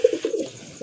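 A pigeon coos in a few short, throaty pulses close by, the calls bunched in the first half and then fading into quiet before a final soft note.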